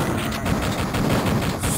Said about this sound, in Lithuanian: Mane šaudo paršai.